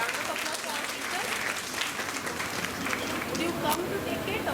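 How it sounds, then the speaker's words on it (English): A crowd applauds for teachers at a National Youth Week orientation session, steady clapping filling the whole stretch with some chatter underneath. "Round of applause for our teachers."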